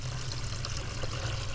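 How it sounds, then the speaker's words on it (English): Running water from an aviary water fountain, a soft continuous trickle and splash with a low steady hum underneath, fairly quiet and close, no talking. "Love the sound of running water."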